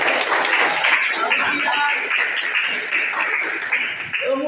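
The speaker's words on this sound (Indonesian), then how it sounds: "tepuk tangan dulu dong" Schoolchildren in a classroom clap for a classmate who answered, a moderately loud burst of mixed applause with voices talking and chattering over it.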